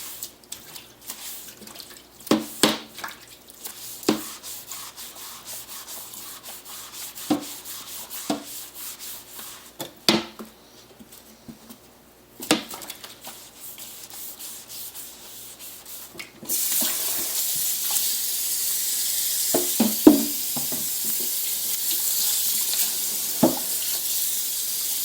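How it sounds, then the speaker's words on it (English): A chopping board is scrubbed and rubbed under a running kitchen tap, with scattered knocks and scrapes, then the water gushes louder and steadily for the last stretch. "Quickly wash this chopping board so that I can start using it again for vegetables."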